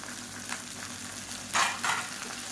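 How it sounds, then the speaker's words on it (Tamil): Coriander and mint leaves sautéing in a pan for coriander thokku give a soft, steady sizzle, with two brief louder bursts of stirring near the end and no talking. "இப்போ எல்லாமே நல்லா வதங்கட்டும்"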